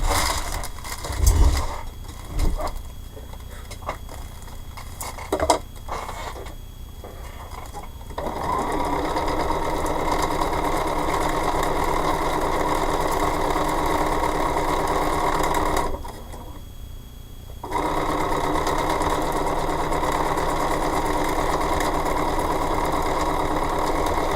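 A sewing machine stitches a quilt block in a steady, close whirring run, starting with a few short bursts and stops, then running long and continuous with one brief pause partway through.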